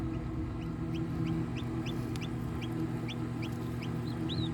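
A newly hatched Rhode Island Red cross chick peeps in short, high, repeated chirps from a DIY manual egg incubator, faint against a steady mechanical hum.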